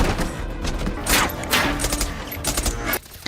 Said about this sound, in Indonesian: Sayangnya Samuelson terkena tembakan